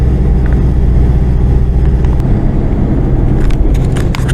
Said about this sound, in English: At the moment I'm just driving along in 2-wheel drive.